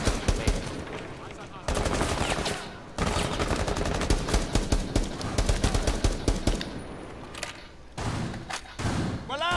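Rapid bursts of automatic gunfire in the video game Rainbow Six Siege, loud and close, coming in several long rattling strings separated by short pauses, with game sounds between them.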